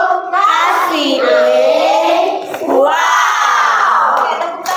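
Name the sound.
class clapping and cheering for group 1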